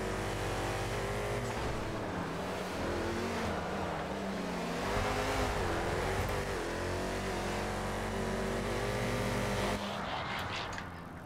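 LMP1 Super Speed V12 Regina race car engine in the GTA FiveM video game, a loud continuous roar with shifting revs throughout, rising and falling pitch, cutting off sharply near the end.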